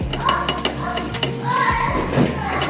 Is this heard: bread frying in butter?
yes